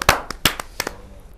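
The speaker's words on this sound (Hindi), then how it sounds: "एक जोरदार तालियों से स्वागत।" A handful of sharp, separate hand claps ring out at a poetry recital gathering (kavi sammelan), fairly close and clear, with short gaps between them rather than a continuous ovation.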